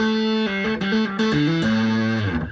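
Bass guitar played through a Prunes and Custard harmonic generator and an Aguilar Tone Hammer, a fuzzy, distorted line of sustained notes stepping between pitches around the 12th and 14th frets, loud and alone.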